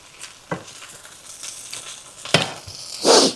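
Hot dogs browning in a frying pan for a beer-braised supper, giving a steady gentle sizzle with scattered spatula taps and a louder hiss near the end.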